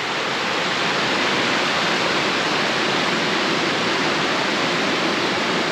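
River rapids raging at Flea Creek campground in the Brindabella Ranges, a loud, steady broadband rush of churning water close by, continuous and unbroken with no talk.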